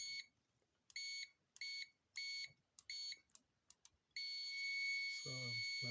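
An Aneng ST181 digital clamp multimeter gives continuity beeps, a string of short thin electronic tones in an uneven rhythm, then one longer sustained beep, with someone speaking briefly near the end.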